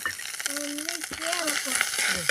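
Mustard seeds, curry leaves and two dried red chillies fry in hot oil for a Kerala dal and raw banana curry, crackling and popping close by while a voice speaks over it.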